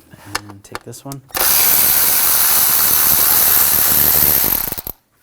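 A ratchet driving a 10mm socket to remove a ground-strap bolt on a 2000-2006 BMW X5 3.0L inline-six, heard as a loud, close, steady burst of rapid clicking lasting about three seconds after a few brief spoken words.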